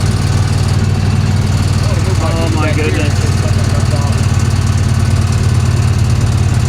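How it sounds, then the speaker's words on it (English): The rough-running engine of a 1966 Chevy Impala keeps up a loud, continuous low drone on the highway while a voice briefly exclaims partway through. "The engine sounds like it's getting ready to pop."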